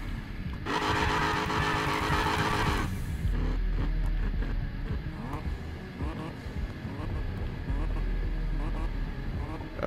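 A race car in the Need for Speed video game warming its tires: a loud, steady engine drone runs throughout, with a brief bright screech early on and a voice speaking over it.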